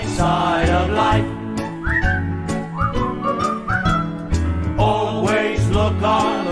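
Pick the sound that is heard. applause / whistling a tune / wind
whistling a tune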